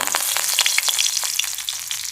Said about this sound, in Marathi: आता मी फोडणी देते कढीपत्ता